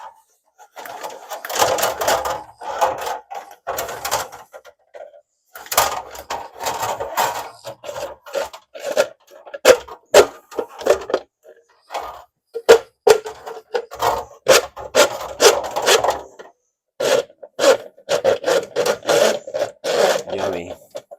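A drain snake is cranked into a clogged, slow-draining sink, giving bursts of rough scraping and rubbing between short pauses, with people talking intermittently.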